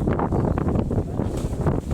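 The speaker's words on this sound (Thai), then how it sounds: "เสียงลมวูวูวูวูวูเลย" Strong wind gusting outdoors in a rural garden area, a continuous loud rushing roar with rising and falling buffets hitting the microphone, with no voices.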